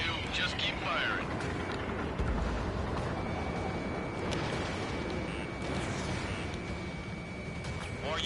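Rumbling missile launches and explosions in Ace Combat 7 during an aerial fight with UAVs, a steady roar with occasional bursts, heard under radio chatter.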